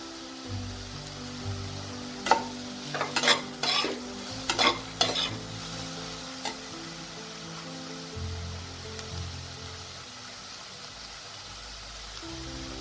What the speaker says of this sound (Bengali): এবার আমি এতে শ্রেডেড চিকেনগুলো দিয়ে দেবো